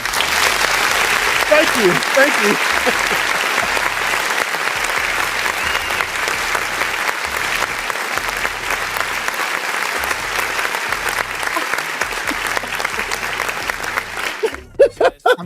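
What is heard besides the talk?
applause sound effect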